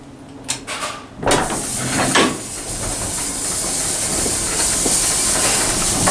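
An old Otis pull-the-rope traction freight elevator starts up with clunks and a sliding clatter, then settles into a loud continuous hissing rumble as the car moves.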